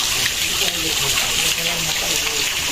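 A fountain of water at a home gate runs with a steady, fairly loud rushing and splashing, with faint voices mixed in.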